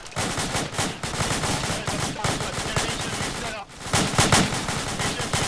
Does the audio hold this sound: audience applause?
no